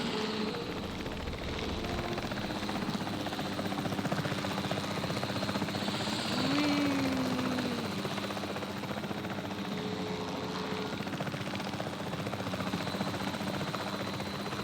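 A helicopter in the video game Jurassic World Evolution drones on steadily with a constant rotor and engine roar, close and unbroken throughout, with no talking.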